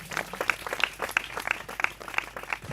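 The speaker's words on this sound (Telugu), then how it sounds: "మరొకసారి చప్పట్లు కొడదామా?" Audience at a Telugu church gospel gathering claps, with bursts of hand claps repeating in a loose rhythm over roughly three seconds, moderately near and fairly faint, with no talking.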